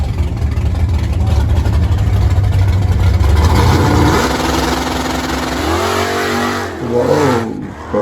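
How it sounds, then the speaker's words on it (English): A Chevy muscle car engine revs hard and loud, a steady roar that drops into a rough idle before a few throttle blips rise and fall near the end. "Whoa, powerful engine."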